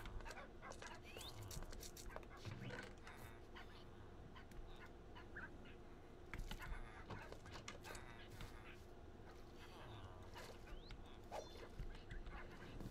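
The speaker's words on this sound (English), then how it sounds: "And there's a puppy." A puppy in a Minecraft modpack gives off soft whimpers and panting-like yelps, scattered across a busy game soundscape with bird and fowl calls and other ambient noise.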